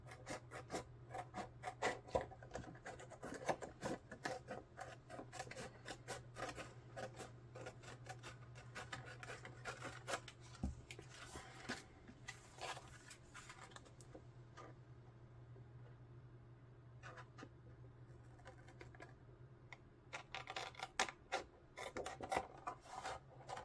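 Scissors cutting ink swatch cards in half, a run of close, dry snips and rasping paper rubs with short pauses between, quiet and alone without talk.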